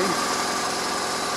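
A 2002 BMW R1150 RT motorcycle's twin engine idles low, a steady close-up rhythmic chugging pulse with a faint mechanical hum, no voices over it.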